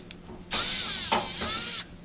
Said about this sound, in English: So zipping out these two Phillips head screws